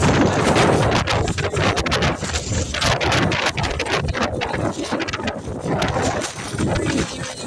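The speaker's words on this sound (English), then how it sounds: "Really windy day today. On the seafront." Strong wind blows along the Blackpool seafront promenade, roaring and buffeting the microphone in a loud, continuous low rumble that surges and dips with the gusts.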